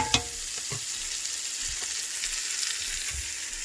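Razor clams and onions frying in a pan with seasoning and drippings, a steady close sizzle broken by a few stirring knocks and scrapes, no talk.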